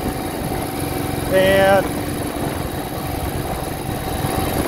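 A 1968 Moto Guzzi V7 700 motorcycle with freshly sleeved cylinders runs while riding, a close, steady throbbing engine rumble with a brief rising whine near the start and a single short spoken word.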